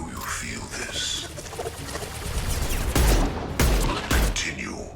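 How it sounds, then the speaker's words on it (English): High impact shots fired in Mass Effect 2, with a voice talking over combat ambience before three loud, sharp shots land close together near the end. "Firing a high impact shot."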